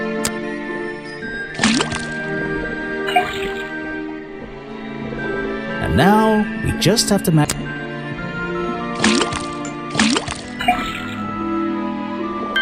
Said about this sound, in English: First thing we do is put the sample of liquid into the cauldron.